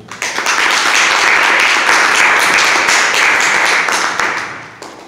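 Loud, dense applause from an academic audience at a university lecture event, swelling quickly, holding steady for several seconds, then fading out at the end.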